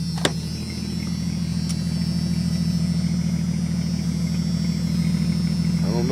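A car idles close by through a Full Boar single-chamber racing muffler with stainless steel racing headers, giving a steady deep low rumble with a few faint clicks over it.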